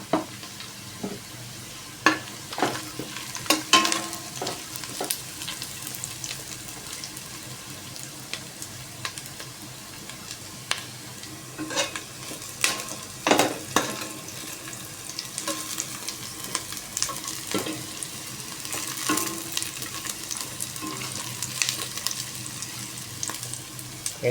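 Mixed vegetables sautéed with dried fish in a pan, with steady sizzling and frequent scraping stir strokes against the pan, plus occasional clinks and watery splashes, fairly close and continuous with no talk.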